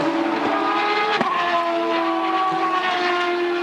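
Champ Car race car of Patrick Carpentier on track at the 2003 Monterrey Grand Prix, a steady loud engine drone holding sustained tones throughout, with a brief sharper burst near the middle.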